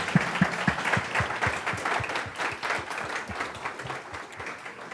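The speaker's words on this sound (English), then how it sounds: "a big round of applause." Audience applause after a talk on climate disruption, a room full of people clapping steadily, with a few sharp individual claps standing out near the start, gradually thinning toward the end.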